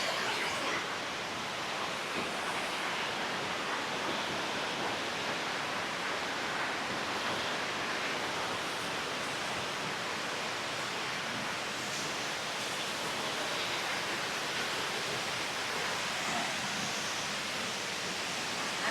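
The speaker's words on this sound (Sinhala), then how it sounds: "තියෙනවා සුන්දර බේකස් ඇල්ල" Baker's Falls, a waterfall in Horton Plains National Park, gives a steady, broadband rushing roar that holds constant throughout, with no speech over it.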